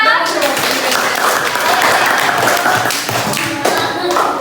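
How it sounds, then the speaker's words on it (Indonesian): Classroom students clap for a presenting group, a close, busy patter of hands with some thumps and children's voices mixed in throughout. "Boleh kasih tepuk tangan untuk kelompok 6."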